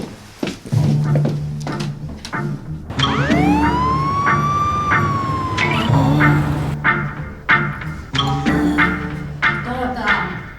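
An ambulance siren wails in a long rising and falling sweep among street and indoor noise, fairly loud and close, with knocks and clatter around it and voices present in the scene.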